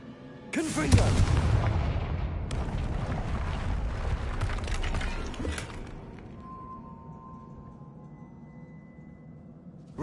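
A Confringo fire spell bursts in Hogwarts Legacy: a sudden loud blast followed by a heavy rumbling roar that slowly fades over several seconds, leaving a quiet ambient hum.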